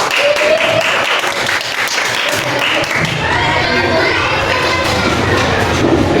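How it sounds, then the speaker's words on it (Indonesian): A classroom of students bursts into loud, close applause during a microteaching session, with mixed clapping, youthful shouts and crowd noise filling the whole stretch. "kasih tepuk tangan ya"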